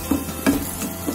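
Sliced onions fry in oil for fish biryani garnish, a soft steady sizzle with a few stirring scrapes over a short stretch.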